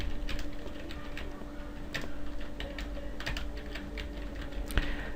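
Keys clatter on a computer keyboard in a steady, close run of light clicks over a low electrical hum, with no talking.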